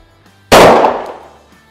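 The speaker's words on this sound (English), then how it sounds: "Never shot this gun before, and I'm really curious what we're gonna see next." A single loud .45 ACP pistol shot fired at Russian body armor: a sharp, close crack at the outset with a ringing decay that fades over about a second, with no talk.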